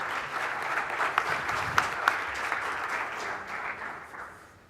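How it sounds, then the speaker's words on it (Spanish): An audience at a medical talk applauds a speaker, a steady bed of clapping with a few crisp nearby claps, fading out at the end. "Un aplauso también"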